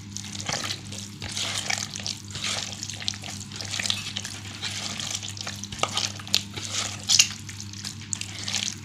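Goat tripe is kneaded and squeezed by hand in water, giving steady wet squelching, sloshing and splashing with sharp watery clicks throughout, close and continuous with no talking.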